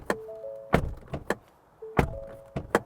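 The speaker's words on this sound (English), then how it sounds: "And door slam." Two heavy car door slams a little over a second apart, each a sharp thud with a short rattle, preceded by faint mechanical clicks and whirs.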